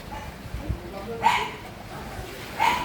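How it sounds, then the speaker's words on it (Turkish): Two sharp barks from a dog, spaced over a second apart, ring out at moderate distance over low background noise. "Evet çok güzel de burada köpekler de var."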